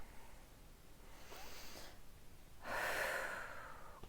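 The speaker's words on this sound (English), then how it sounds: "It's deep breathing that comes from the belly, what we call diaphragmatic breathing." Slow, deep diaphragmatic belly breathing heard close and soft, one faint inhale followed by a stronger, airy breath toward the end, with no talking.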